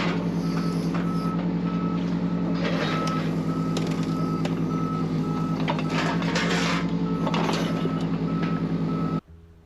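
A Rippa R13 mini excavator clearing land sounds steady, loud reversing beeps over a constant engine drone as it moves pallet racking, with the sound cutting off abruptly at the end.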